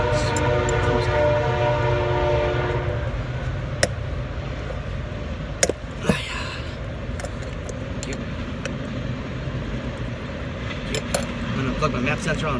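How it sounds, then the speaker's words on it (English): A train passes near a workshop where a 1997 Honda Civic EX is being worked on: steady low rumble and rolling clatter with sharp metallic clanks, a horn-like tone early on, continuous throughout. "Sorry about the train."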